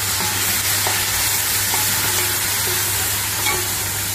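Ginger garlic paste sizzling loudly in hot oil with golden brown onions for khichuri, a close, steady frying hiss with faint occasional stirring clinks.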